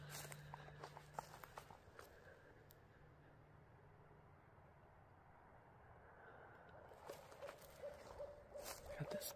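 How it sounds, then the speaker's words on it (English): Owls hooting at night in an old 1800s cemetery, soft repeated hoots from some distance amid faint outdoor ambience and occasional footsteps, with no talk. "the owls are going crazy"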